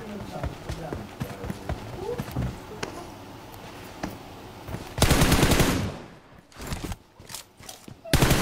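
Rapid automatic gunfire in a video game, repeated bursts and single shots with a loud sustained volley near the end. Excited talk from players runs through it.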